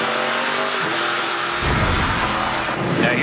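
A NASCAR Pinty's Series stock car, heard from onboard car 22 during a 2019 race, roars at full throttle, its engine loud and close, with a shift in pitch and a harsh tire scrub partway through.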